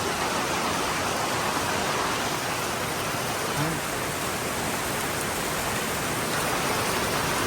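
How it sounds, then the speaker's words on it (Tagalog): Heavy rain in Dingalan, Aurora pours continuously as a dense, uniform roar, close and unbroken from start to end. "Ang ulan oh."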